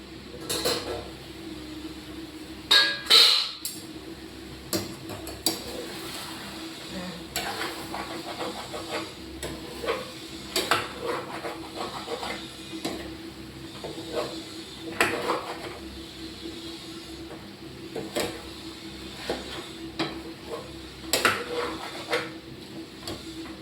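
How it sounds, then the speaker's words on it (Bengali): Food stirred in a cooking pot so the bottom won't burn, a soft scraping and clinking of a spoon against the pot repeating irregularly over a steady low sizzle, close and fairly quiet. "আমি এবার একটু নেড়ে দেবো"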